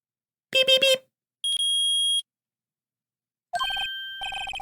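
An electronic detector in the Phoenix Wright: Ace Attorney video game reacts with a steady synthetic tone, then a burst of rapid chiming beeps, preceded by a short musical jingle.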